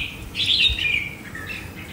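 Red-whiskered bulbul (chào mào) gives a short burst of bright, warbling calls, close and clear over a quiet background.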